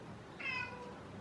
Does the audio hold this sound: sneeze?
no